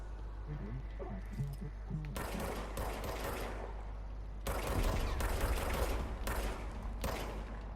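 Rapid gunfire from a self-recharging pistol in the video game Control, bursts of loud shots clustered in two dense stretches with brief gaps, over constant game background noise.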